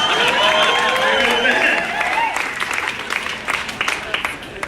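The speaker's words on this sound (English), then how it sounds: "Can I get another round of applause?" An audience at a film premiere Q&A in Summit County, Colorado, breaks into sustained applause, dense clapping that gradually thins out into scattered claps, with a voice audible over the start.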